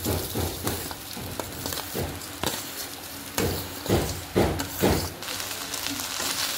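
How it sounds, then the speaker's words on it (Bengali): Marinated rice frying in a hot kadai (wok), a steady close sizzle broken by repeated scraping stirs and a few knocks of a spatula against the pan. "সুন্দর করে চালটা ভাজা নিব"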